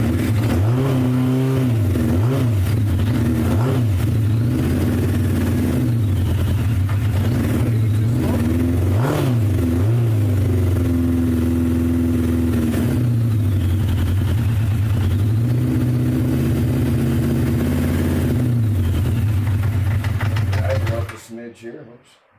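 An old Japanese motorcycle engine runs steadily after a Mikuni carburetor cleaning, with close, buzzing revs rising and falling repeatedly for about twenty seconds before cutting off. Someone talks over it.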